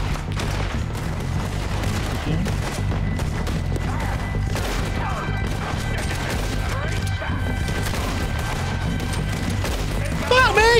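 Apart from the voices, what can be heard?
gunfire in the video game Red Dead Redemption 2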